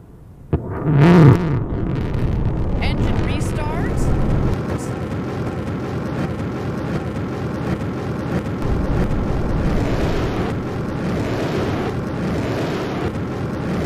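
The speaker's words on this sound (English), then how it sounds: "this booster is screaming home right about now" A loud, steady rocket engine roar from a Blue Origin New Shepard booster during landing fills the scene, broadband and rumbling throughout, with a brief sharper burst near the start.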